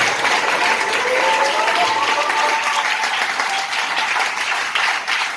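Sustained applause from a church audience welcoming respected pastors, steady dense clapping filling the room at full volume for several seconds with a faint voice underneath.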